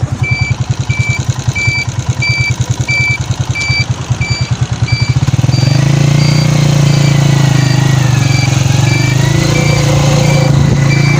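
A motorcycle ridden up to the Pak-China Friendship Centre in Islamabad, its engine throbbing in a fast steady pulse up close, then easing into a smoother, lower idle hum as the bike slows to a stop.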